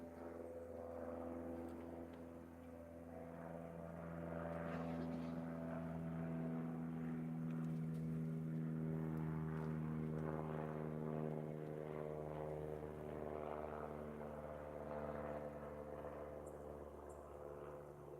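A propeller airplane drones overhead in a steady, moderately loud pass, its engine hum swelling slightly at the midpoint and easing off, with no talk over it.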